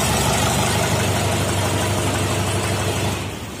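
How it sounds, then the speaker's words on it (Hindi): Close, loud tractor engine idling with a steady low chugging throb, easing off slightly at the very end. "मैं स्टार्ट करके आपको आवाज दिखाऊंगा ट्रैक्टर की।"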